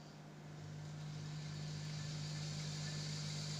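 A small laboratory generator driven from a DC power supply in an electrical power conversion practical, spinning up toward 1800 RPM with a steady, close motor hum and a strong low tone that rises slightly in level, with no voices.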